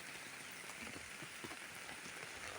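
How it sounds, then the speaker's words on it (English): Steady rain falls on a village garden, a soft, even hiss of drops hitting leaves and ground, close and continuous with no voices. "Here we have beautiful raining, and now I'm walking in my garden."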